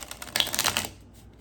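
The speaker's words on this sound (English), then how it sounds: "I think I'll shuffle it" A deck of cards is shuffled in one quick, close riffle of rapid soft clicks that fades to quiet.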